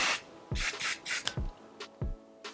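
Hair spray from an aerosol can hisses out in several short bursts of varied length, close by and fairly loud, during an everyday hair styling routine.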